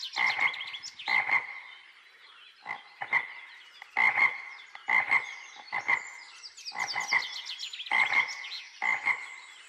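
Frogs croak close and loud outdoors, in a series of rhythmic, raspy calls repeated in clustered bursts roughly every second, with no talking.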